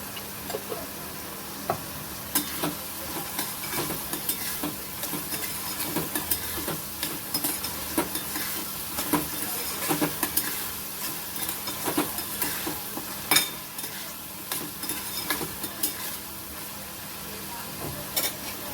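Onion sautés in a pan with asafoetida and salt, a light steady sizzle broken by irregular stirring scrapes and utensil taps, heard up close with no one talking.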